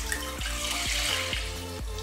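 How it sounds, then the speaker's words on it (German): Milk poured into a cooking pot for pudding, a steady liquid splash and trickle running the whole time, close and fairly quiet, with several dull knocks underneath. "in diesen Topf kommt Milch"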